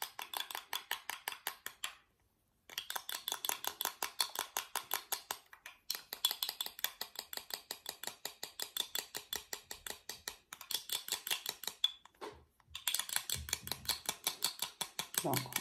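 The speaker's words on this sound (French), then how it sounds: "Donc, on va battre et battre. Jusqu'à ce que ça devienne homogène." Eggs and lemon whisked briskly in a bowl, a fast steady rhythm of sharp clinking strokes against the sides, loud and close, pausing briefly a few times.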